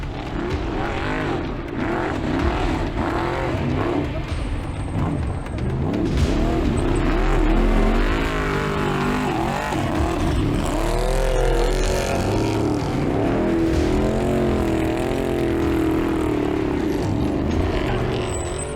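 An off-road race vehicle tears along during the 2025 Baja 1000. Its engine roars loud and close, revving and accelerating hard in repeated surges that rise and fall over a constant rumbling drone.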